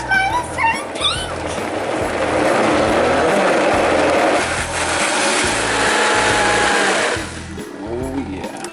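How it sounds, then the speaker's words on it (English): A kitchen blender whirs loudly as it purees a fruit popsicle mixture, a dense continuous roar for several seconds before cutting off, with voices chatting before and after. "lid on and blend that puppy up."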